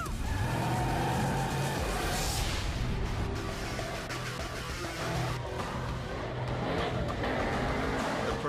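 Race cars in a London street race from Fast & Furious 6 roar and skid, with tire noise and engine sound rising and falling in a fairly faint, busy mix.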